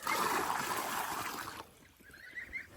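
Fresh water pours steadily into a drinking container for geese and ducks, a loud, close rushing hiss that cuts off abruptly, leaving quieter dripping and faint background sounds.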